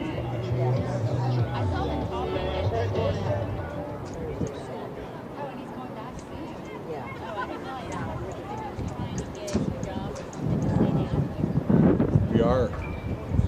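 Gusty wind buffets the microphone throughout at an outdoor amateur soccer match at a high school, rumbling under a crowd's distant chatter and a nearby voice talking.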